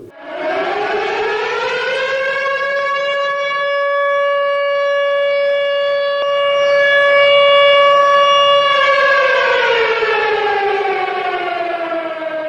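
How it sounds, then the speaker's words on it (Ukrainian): A civil defense air raid siren sounding the all-clear wails loudly and alone, rising at the start, holding a long steady tone and then slowly falling away. "Про відбій повітряної тривоги буде сповіщати сирена і голосове повідомлення продовж двох хвилин"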